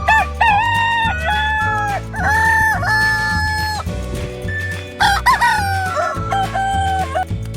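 A rooster crows several times with hens clucking in between, all set over steady background music.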